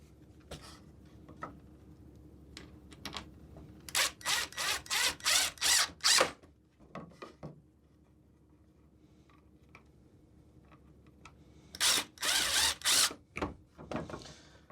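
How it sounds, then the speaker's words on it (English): A power driver sinks screws into a wooden bird house in two separate runs of loud, rapid whirring bursts, each a string of short pulses, with quiet gaps and light handling clicks between them. "So I'll grab some screws here and get screwing here."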